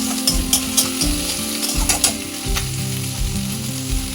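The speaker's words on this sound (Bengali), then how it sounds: "পেঁয়াজ দিয়ে একটু নাড়াচাড়া করে নিই। তারপরে কাঁচা লঙ্কা দিলাম।" Onions and green chillies sizzling in a pan for a vegetable chop filling, stirred with rhythmic scraping clicks over a continuous close fry, no voices.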